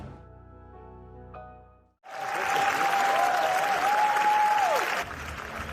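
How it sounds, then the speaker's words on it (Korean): A Cannes premiere audience gives a long standing ovation, sustained dense clapping that swells in abruptly after a quieter musical passage and holds steady and loud, with a faint tonal whistle-like line running over it. "12분 동안의 기립박수."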